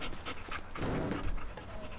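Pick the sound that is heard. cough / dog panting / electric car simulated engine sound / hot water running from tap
dog panting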